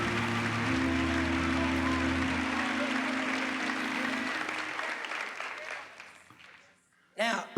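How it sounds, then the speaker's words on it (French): Audience applause and cheering at a church gathering, a broad sustained wash of clapping under amplified voices and music that gradually thins and fades to near silence, followed by a short vocal burst. "donnez-lui une grande acclamation"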